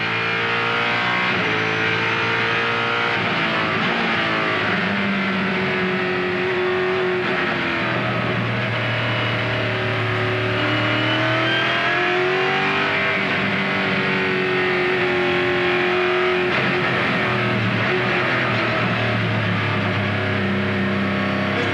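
A Pontiac-powered race car engine at a 2004 Rolex Sports Car Series race screams continuously at close range, its pitch rising and dropping repeatedly through gear changes and corners.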